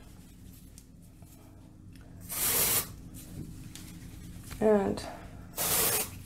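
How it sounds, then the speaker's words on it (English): Dry shampoo sprayed onto the roots of short hair, heard as three short hissing bursts from an aerosol can, quiet and close, with a brief word of speech and a faint rustle between sprays. "I'm gonna use a little bit of dry shampoo, just a little bit on the roots."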